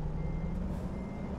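A truck backing up in American Truck Simulator, its reversing alarm sounding under a steady low diesel engine drone that fills the short moment without any voices.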